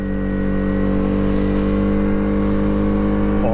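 A vehicle's engine drones steadily and loudly with a strong low hum, driven across a rough field off-road, its revs lifting slightly toward the end, close and continuous with no talking.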